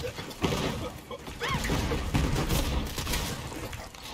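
Gunfire in the video game Borderlands 3: dense, rapid bursts of shots and sharp impacts crash through the whole stretch at close range, with a few ringing tonal effects mixed in.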